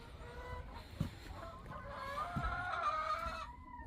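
Chickens in a farm barn at morning feeding time cluck and call over one another in a steady, close chorus, with no talking.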